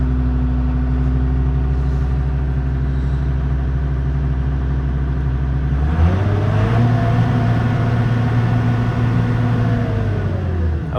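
Heavy earth-moving machine engine running loud and close at a steady idle, then throttled up partway through so its deep hum rises in pitch and holds at the higher speed.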